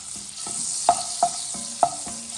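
Garlic sizzles in melted butter in a pan for restaurant-style pasta, with a steady soft fry and a few sharp scraping taps of a spoon stirring.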